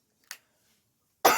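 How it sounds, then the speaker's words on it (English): Two short coughs, a faint one followed after a pause by a louder, sharper cough up close. "That's really got me coughing."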